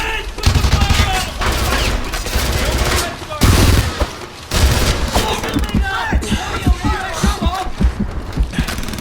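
Sustained automatic gunfire from the shooter Frontlines: Fuel of War, loud dense bursts with booming hits, a brief pause near the start, then ragged volleys continuing under shouted voices.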